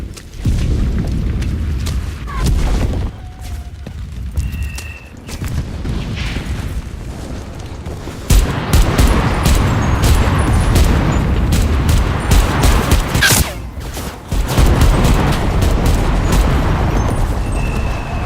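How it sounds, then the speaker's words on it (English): Artillery shells explode in the World War II shooter game Enlisted, a sustained barrage of heavy booms and rumbling blasts that swells louder partway through and continues almost without pause. "Artillery fire!"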